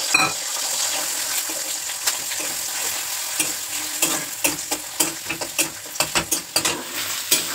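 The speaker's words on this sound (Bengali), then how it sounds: "তাহলে আমি ডিম দিয়েই ভেজে নিই।" An egg frying together with potatoes in a pan, a strong, steady sizzle up close, punctuated by repeated scraping and tapping of a spatula that grows busier toward the end, with no voices.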